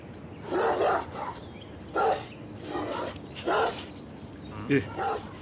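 A dog barks in short bursts, about five or six yaps spaced a second or so apart, fairly close and loud, with some whimpering yips between them.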